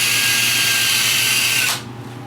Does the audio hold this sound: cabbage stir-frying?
no